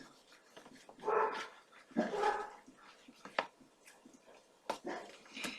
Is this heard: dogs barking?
yes